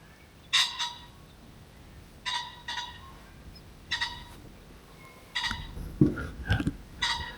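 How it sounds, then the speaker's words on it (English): Pheasant calling outdoors in the evening, several separate harsh squawking bursts spaced a second or two apart at moderate distance over a quiet background. "That's a pheasant, isn't it?"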